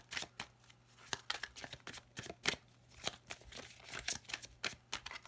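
A deck of tarot cards is cut and shuffled close up, with quick papery riffles and slaps arriving in an irregular stream of crisp, fairly quiet bursts with short pauses between them.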